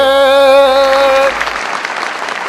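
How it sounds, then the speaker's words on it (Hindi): Applause from a mushaira audience in Hyderabad rises at the close, a brief rush of clapping after a sustained tonal sound fades out. "आप लोगों के बीच जोरदार तालियों में आलोक श्रीवास्तव साहब।"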